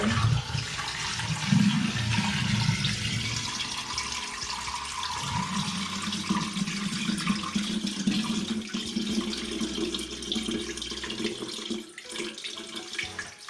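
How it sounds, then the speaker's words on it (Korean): A drain is unclogged with an air gun, then water gushes and drains away in a steady rushing, gurgling flow that fades toward the end. "하수구를 요거 에어 강을 한번 뚫어 보겠습니다"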